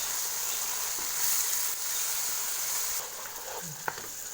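Chicken keema with fenugreek leaves fries on a low flame, giving a steady, moderate sizzle that continues throughout, with a few faint stirring scrapes and a small clink near the end.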